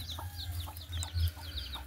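Free-range village chickens on a farm give short, scattered clucks over a low steady hum, several birds calling close by.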